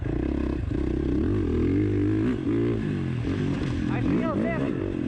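A 2019 Husqvarna FC 450 motocross bike under throttle, its engine droning loudly and steadily, rising and falling in pitch as it revs, with a voice speaking over it.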